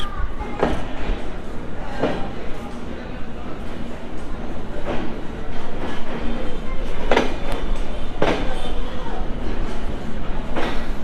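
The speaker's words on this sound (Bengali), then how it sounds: "ট্রেন এখন ছেড়ে যাচ্ছে" The Rupashi Bangla Express pulls away from Jessore Junction and runs on toward Benapole. A steady rumble of wheels is broken by rhythmic clacks at the rail joints, roughly every two seconds.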